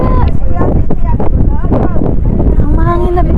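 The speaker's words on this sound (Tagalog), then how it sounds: "Hangin na bigla bigla." Sudden strong gusts buffet an outdoor microphone in the Sapa mountains, producing heavy low rumbling roar throughout while people talk over it.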